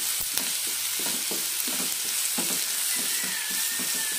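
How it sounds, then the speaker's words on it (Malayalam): Sliced onions with a bay leaf frying in a pan for tomato kurma, stirred in a rhythmic series of scraping strokes over a constant hissing sizzle. "നന്നായി ഇളക്കി കൊടുക്കാം"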